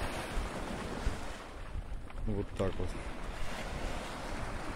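Rough sea waves break on the Crimean coast near the village of Malorechenskoe. A continuous rushing surf mixes with heavy wind buffeting, and someone briefly speaks midway.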